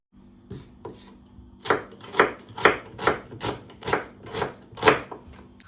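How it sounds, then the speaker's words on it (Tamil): An onion being chopped with a knife on a board, about ten firm, evenly spaced chopping strokes after a couple of lighter taps, close and clear, without talking. "இப்போ நாங்கள் முதல்ல வெங்காயத்தை கட் பண்ணி எடுப்போம்"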